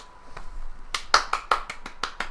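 A short burst of hand clapping in Bloodborne, about eight sharp claps in an uneven rhythm, close and clear against a quiet background.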